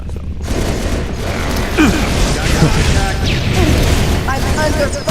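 Gunfire and explosions in a firefight in the Halo Reach video game: bursts of weapon fire and booms roll on under mechanical clatter, with voices talking over the combat throughout.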